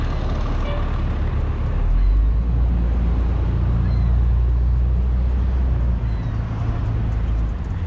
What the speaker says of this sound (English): you'll hear a bus on my left.